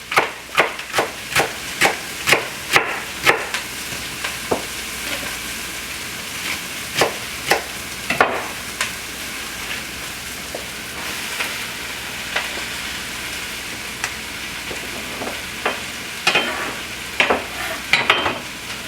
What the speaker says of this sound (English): let's go ahead and place the cabbage in